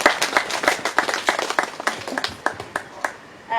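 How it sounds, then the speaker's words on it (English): Clapping from an audience after a keynote speech at an open data summit, a few seconds of irregular, fairly close hand claps that thin out toward the end. "Another round of applause, a healthy round of applause for him"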